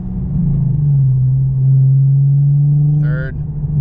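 Nissan 370Z fitted with a Greddy EVOlution GT exhaust pulls steadily in second gear with the window down, a loud droning exhaust tone holding for several seconds before a brief shift near the end.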